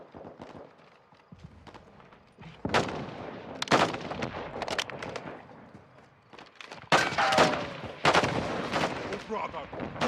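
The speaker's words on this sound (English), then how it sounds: "Crash site is taking rocket fire from building 2!" Call of Duty: Modern Warfare II battle, with loud bursts of gunfire and heavy rocket blasts arriving in uneven clusters over a rumbling backdrop, mixed with shouted radio-style voices.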